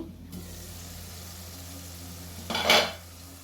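Dried fish curry stirred in a pot before the lid goes on: a quiet low kitchen hum, then a brief clattering metallic clink near the end.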